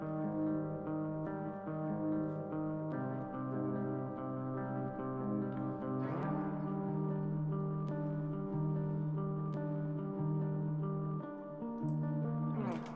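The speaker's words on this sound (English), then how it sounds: "We have two guitars, and together they sound like this" Two layered electric guitars play sustained, overlapping chords together, washed in reverb, steady and moderately quiet, with a change of chord partway through and no voices.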